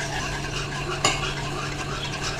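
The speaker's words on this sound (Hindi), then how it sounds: "अब हम एक विस्क ले लेंगे और जो हमने कॉर्नफ्लोर वाला मिक्सचर बनाया था वो हम थोड़ा थोड़ा करके डालते जाएंगे और इसको मिक्स करते जाएंगे" A whisk stirs cornflour mixture into milk for rabri, making a steady, close swishing and scraping in the pot with one brief metallic tap midway.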